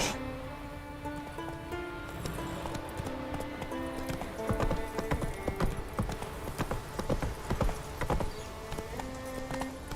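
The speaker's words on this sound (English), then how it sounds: "Whoa there, Roach" Steady horse hooves clip-clop through a video game world, a rhythmic trotting gait close by, mixed with game music and ambient rustle, with a brief whinny possible.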